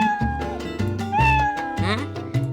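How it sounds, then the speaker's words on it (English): Cat meow sound effects from a Scratch sound engine repeat one after another, several short rising-and-falling cries over a soft, steady backing of bossa nova music. "play some meow sounds"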